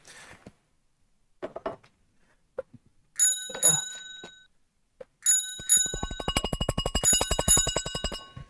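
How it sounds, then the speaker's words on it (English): A bell rung on a live stock market trading broadcast, starting with a few scattered taps and clinks, then bright sustained rings, ending in a rapid continuous trill, loud and close. "Ronnie, ring your bell."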